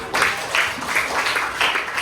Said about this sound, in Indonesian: tepuk tangan untuk dia nak